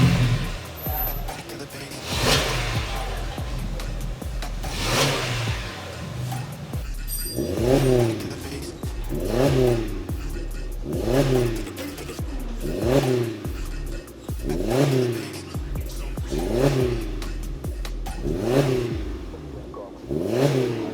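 Suzuki Jimny with a Borla XS Pro catback exhaust and polished round tip, revving repeatedly: a series of rising engine blips roughly every second or two, close and moderately loud, over a steady idle.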